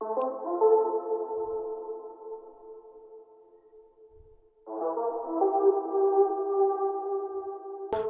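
A mono lead synth preset called AZ Glide from Hive plays a gliding melody over sustained harmonic tones, pausing briefly mid-phrase before resuming louder, with no voices.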